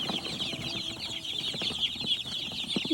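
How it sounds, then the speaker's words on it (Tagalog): Chicks peep and chirp continuously while being placed into a homemade chicken coop, a dense, high, steady chorus close by with faint handling noises beneath. "nilalagay na nga nila yung mga sisiw na nabili namin dun sa kulungan na ginawa nila Norme."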